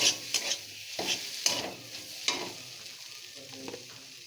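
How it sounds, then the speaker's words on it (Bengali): Kochu shak greens with shrimp and sugar being stirred in a pan: repeated scraping strokes under a soft steady sizzle, close and fairly quiet, with no talking. "চিনিটা দিয়েও খুব ভালো করে একটু মিশিয়ে নেব"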